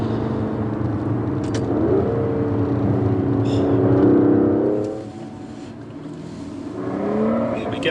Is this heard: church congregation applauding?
no